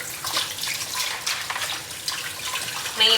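Water splashes and trickles as it is poured out after rinsing raw pork chops in a kitchen. The flow is irregular and close, with small spattering bursts and drips, and it swells near the end.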